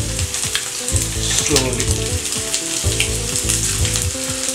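Steady crackling sizzle of hilsa fish frying in hot oil, continuous and close, with a few light clatters of handling.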